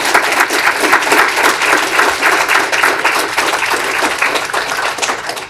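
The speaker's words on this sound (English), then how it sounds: "Let's give a big round of applause for our speakers." A cybersecurity conference audience at a university applauds its panel speakers, a dense, loud, sustained clapping that carries evenly throughout.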